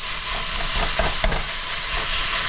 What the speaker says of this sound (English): Now we got our beef in. We're gonna dump our spices in because those are important. We gotta toast those up.